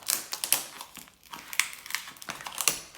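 Plastic and cardboard packaging of a gaming keyboard crinkles and crackles as it is opened, with repeated close rustles and a few sharper crunches over a few seconds, no talking.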